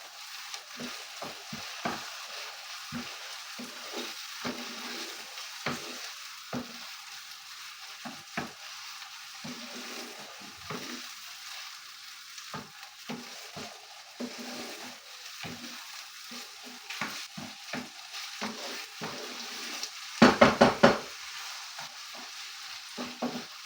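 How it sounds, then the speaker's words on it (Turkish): Meat sizzles in a pan with softened onions for a pea and potato stew, a soft steady fry punctuated by repeated spoon scrapes and stirring knocks, with a short louder clatter near the end. "Etimi de güzel döndürüyorum."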